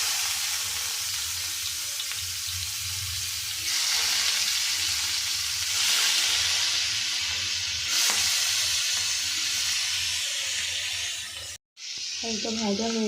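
Giant freshwater prawns coated in salt and turmeric frying in hot oil tempered with black cumin, a steady loud sizzle with stirring, brief pause near the end, and some talk over it.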